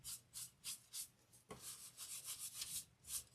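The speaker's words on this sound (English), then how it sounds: "All right, I'm going to rub some of this off." Cloth rubbing dark stain off a small wooden ornament, a quiet rhythmic series of about a dozen soft brushing strokes with no talk.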